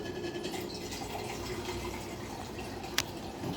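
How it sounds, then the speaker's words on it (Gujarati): Water pours steadily into a pot for cooking Maggi noodles, a continuous filling splash with a small clink near the end. "પહેલાં આપણે પાણી નાખીશું"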